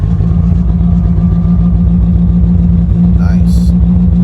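A big-turbo Mitsubishi Evo engine runs steadily just after its first cold start, a loud, continuous low engine drone with a brief higher chirp near the end.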